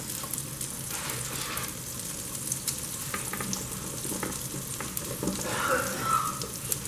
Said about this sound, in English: I'm going to start my onions and my zucchini on this end.